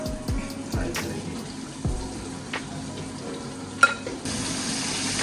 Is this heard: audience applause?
no